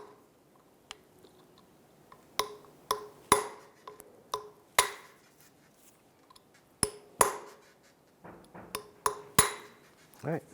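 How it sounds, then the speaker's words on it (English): A punch is hammered into the dimpled nut on a 2000-2006 Toyota Tundra driveshaft center support bearing yoke. It produces sharp, ringing metallic taps in irregular bursts with quiet gaps between them, close and moderately loud. "I'm going to go ahead and use a punch and try and open that up a little bit"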